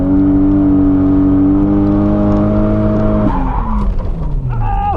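A Toyota Mark II JZX90 drifts with a loud, sustained engine howl held at steady revs, then the revs drop and the tires squeal and scrub as the car slides, close up.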